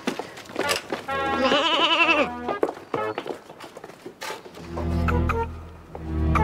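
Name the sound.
goat bleating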